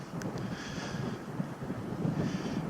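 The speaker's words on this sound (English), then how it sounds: "It's very windy." Wind buffets a sponge-covered microphone outdoors, giving a continuous low rumbling roar with small gusty swells, steady and fairly faint.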